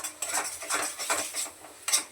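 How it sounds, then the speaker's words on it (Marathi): Spices sautéing and being stirred with a metal utensil in a pan while cooking masala paneer, giving repeated scraping clinks at an uneven rhythm, close and fairly quiet, with no talk. "जरा मिनिटभर परतू देते."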